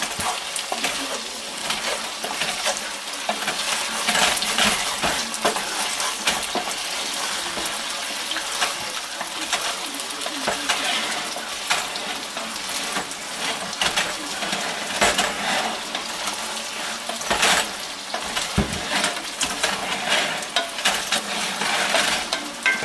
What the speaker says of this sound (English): we're gonna stir the potatoes off at the bottom of the pan